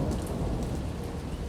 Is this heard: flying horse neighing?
no